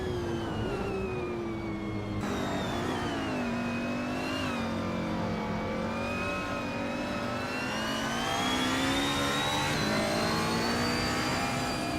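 Race cars lapping Castle Combe circuit, among them a 2015 Ferrari 488 GTB, engines revving and shifting pitch in a continuous loud whine as cars sweep past one after another, no voices.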